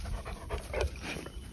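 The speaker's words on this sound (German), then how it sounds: "Ein richtiger Herdenschutzhund und ein kleiner Hütehund." A large livestock guardian dog pants close by, quick rhythmic breaths over a low background hum.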